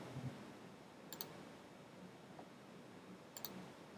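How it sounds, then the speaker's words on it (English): A couple of faint, crisp mouse clicks spaced a few seconds apart while someone works in a page editor, each a sharp tick over quiet room tone. "I can just click on it"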